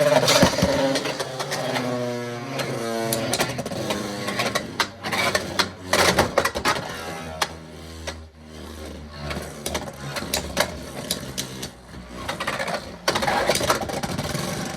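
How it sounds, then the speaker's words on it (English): Beyblade X spinning tops whir and grind against each other in a stadium, a loud close buzzing with sharp clacking impacts that rises and falls over the battle. "You can hear Pegasus absorbing the rotation from Rod."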